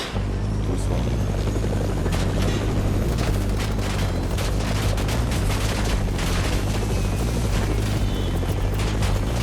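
A helicopter's rotor in Fortnite thumps steadily and loudly throughout, with bursts of gunfire and explosions crackling over it in a busy battle scene.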